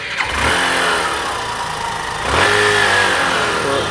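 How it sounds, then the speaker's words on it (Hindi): A Honda Super Splendor BS6 motorcycle engine starts and settles into a steady idle, then revs up sharply partway through, running loud and close with no talk. "तो चलिए बाइक को स्टार्ट करता हूँ,"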